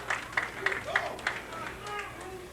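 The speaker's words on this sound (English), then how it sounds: "Some of the crowd is standing on their feet and applauding." A bowling crowd at a 1995 tournament final applauds, with scattered claps and cheers rising under a commentator's voice that keeps talking throughout.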